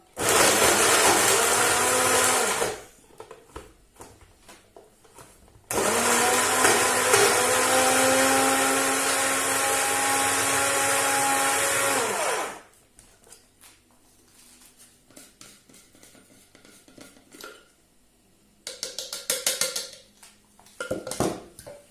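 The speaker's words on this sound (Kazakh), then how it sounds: "Ол үшін біз бір батонды алып, батонды турап, мен блендерден өткізіп аламын." An electric blender grinds a bread loaf into crumbs, a loud, steady motor whine in two long bursts with a pause between, followed by quieter clinks and rattles of the bowl and utensils.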